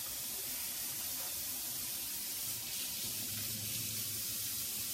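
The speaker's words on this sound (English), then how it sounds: "I'm just filling the water bin up." Tap water pours steadily into a water bin during a chalk craft session, a constant close rushing hiss that runs unbroken and alone for the whole stretch.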